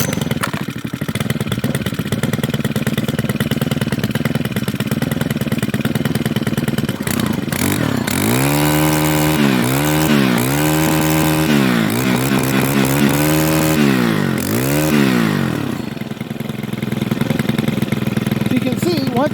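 A Stihl FS111RX four-stroke string trimmer engine runs steadily at idle, then revs up and down several times in quick surges before settling back to a rough idle, close and loud.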